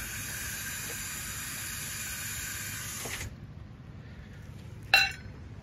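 Water hisses steadily as tumbled rocks and a rock tumbler lid are rinsed in a colander, then cuts off, followed by a single sharp clink.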